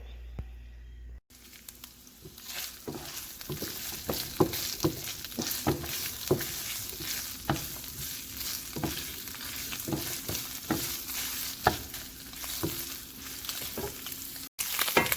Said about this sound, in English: We're just gonna stir it until fragrant